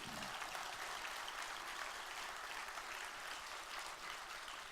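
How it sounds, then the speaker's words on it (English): Audience at a fuel choices summit applauding, a steady even wash of clapping running throughout, faint and distant. "Professor George Olah, you can applaud, he deserves it."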